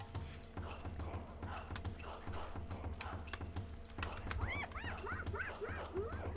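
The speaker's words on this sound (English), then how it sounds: "Wild dog is yipping at us." A wild dog in the Roblox game Wild Savanna gives repeated high yips and whimpering calls over game ambience, growing more frequent and distinct toward the end.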